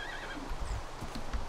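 A Minecraft horse lets out a whinny, with a short snort and a few soft clip-clop hoof sounds, all close and clear against a quiet game background.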